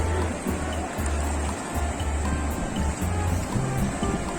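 A river rushes past at Pahalgam, a steady broad roar of flowing water close by, continuous and unbroken, with no voices.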